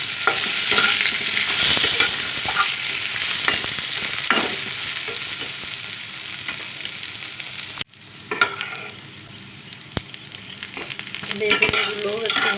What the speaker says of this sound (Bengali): বেগুনগুলো একটু ভাজা ভাজা হয়েছে